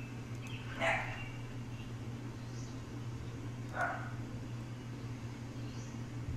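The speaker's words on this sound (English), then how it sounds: "Sorry about that if you can hear my dog barking." A dog barks twice, a few seconds apart, somewhat distant over a constant low electrical hum.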